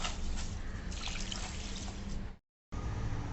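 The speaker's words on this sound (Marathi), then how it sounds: "आता हे आपण स्वच्छ धुवून घेऊ चांगले दोन ते तीन पाण्याने चांगले स्वच्छ धुवून घ्यायचं" Water sloshes and trickles steadily as mixed lentils and rice are swished and rinsed by hand, with a brief silent gap before the splashing resumes.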